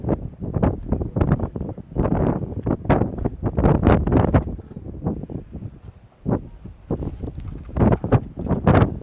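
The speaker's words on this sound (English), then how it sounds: "Wind picks up here in Tunica. Blowing 10 to 25 now." Gusty wind buffeting the microphone at an outdoor high school varsity baseball game in Tunica, loud low rumbling bursts that rise and fall irregularly throughout.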